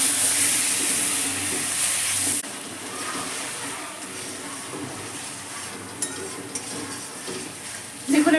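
Egg and potato masala fries in a pan as it is stirred with a little water, a continuous close sizzle with bubbling and intermittent scrapes of a utensil, briefly sharper near the end.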